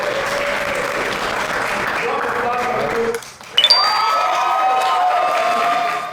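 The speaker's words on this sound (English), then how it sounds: "Round of applause for them." An audience at a speed dating event applauds the next couple, steady crowd clapping that briefly drops out, then returns with a bright ringing ping and resumes under a background of voices.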